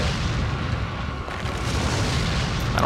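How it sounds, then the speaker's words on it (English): A burning blast from an incendiary grenade in Resident Evil 4 roars as a loud, sustained rumble that swells, dips briefly, then surges again, with no talking over it. "Here's what the incendiary grenades are for."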